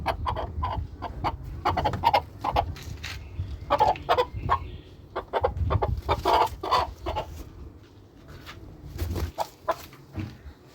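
Close, repeated clucking from a red junglefowl-type rooster, irregular bursts of short calls continuing throughout with some low rustling underneath.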